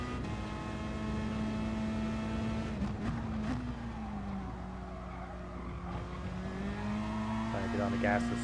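A Gr.4 race car engine in GT Sport at Interlagos drones loudly and steadily, pitch dipping and then climbing as it accelerates out of a corner, with faint tire squeal and a voice talking over it.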